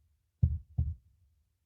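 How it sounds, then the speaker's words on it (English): A thumping heartbeat sound effect with two heavy, close, low thuds in quick succession, a pause, and then another beat starting, loud against silence. "I like the heartbeat there."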